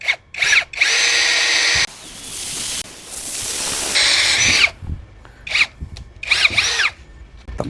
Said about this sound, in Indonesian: Speed 1 mode drilling.